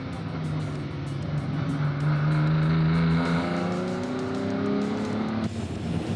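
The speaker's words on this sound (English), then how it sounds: "Round the open right-hand sweep they go and Kloppers passes the slowing Prefect of de Roux." Vintage MGB and Ford Prefect race cars howl past on a circuit around an open right-hand sweep, one Prefect slowing with trouble; steady loud engine drone with rising revs, close and continuous, no talk.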